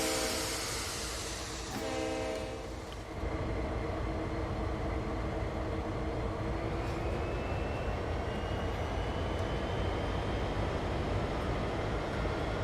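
A freight train in Train Sim World 2 sounds its horn in a steady tone, then a loud continuous rumble of engine and rolling wagons builds and carries on to the end.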